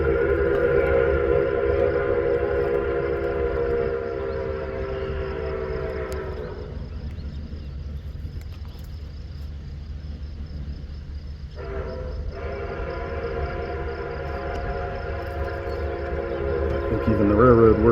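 Nickel Plate Road #765 Berkshire steam locomotive rumbles past over the Wellington, Ohio railroad diamond with a loud, sustained whistle blast that drops out briefly, then sounds again over the heavy chugging.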